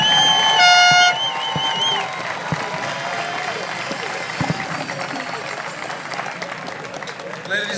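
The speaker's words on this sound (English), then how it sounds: "Give yourselves a round of applause" A stadium crowd of soccer supporters at a season championship celebration applauds and cheers, broad and sustained, while a loud voice over the public address speaks at the start and faint shouts rise from the stands.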